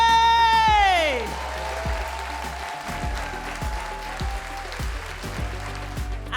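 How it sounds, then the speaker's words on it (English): Audience applause for the runner-up at a stand-up comedy competition, a steady wash of clapping that follows a loud swelling musical sting and continues under rhythmic thumping beats. "Second place, with a round of applause,"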